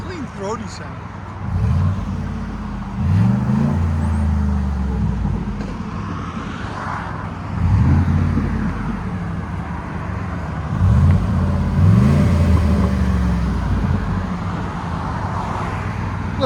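Deep, throaty exhaust note from a 2008 Ford Explorer 4.6L V8 fitted with a Gibson cat-back, idling at close range and revving in several rising blips spread through the clip, with no talking.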